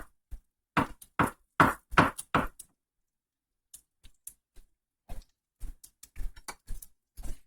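A kitchen knife dices mushrooms on a cutting board with quick, crisp close taps, first in a dense burst and then in scattered, lighter chops, with no talking.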